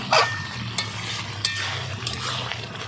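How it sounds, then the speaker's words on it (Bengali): Banana flower curry simmers and bubbles in a pot with a steady sizzle, while a spoon stirs it in a few distinct scraping strokes at irregular intervals, close up and with no talking. "নেড়ে চেড়ে আর একটু ফুটতে দেবো, তারপরে তরকারি নামিয়ে নেব।"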